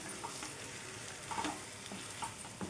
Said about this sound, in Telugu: మనం ఫ్రై చేసి పెట్టుకున్న దొండకాయ ముక్కలను అయితే వేసుకుందాం.